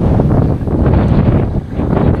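Gusty wind by a dusty river buffets the microphone in heavy, rolling low rumbles that swell and dip, loud and close throughout.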